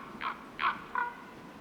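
Large crows calling in the Alps, three harsh caws spaced about a third of a second apart, moderately near against quiet mountain air.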